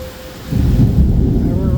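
Heavy rain pours hard during a storm with a tornado warning in effect, a dense, loud downpour that swells abruptly midway after a quieter start, with a low rumble beneath the steady hiss.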